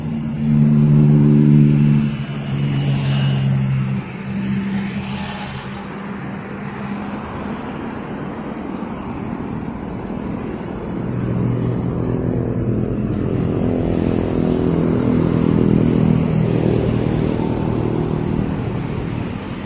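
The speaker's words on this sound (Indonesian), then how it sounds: "Beginilah penampakan bis 220." A big ALS 220 intercity bus engine rumbles and revs loudly at close range, rising and falling in a steady low drone amid traffic noise, with no talking.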